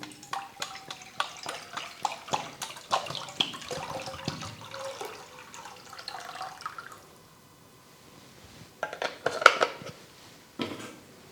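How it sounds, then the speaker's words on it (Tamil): One litre of water is poured into a pan on a lit stove for village-style rice payasam: a steady splashing pour with clinks, then a lull and a few brief sloshes and knocks near the end. "1 லிட்டர் தண்ணி சேர்த்திக்கணும்."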